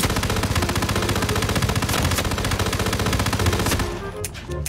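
Rapid automatic gunfire from a weapon in the video game Hitman 3, loud and continuous bursts of shots with a dense rattling rhythm that thins out near the end.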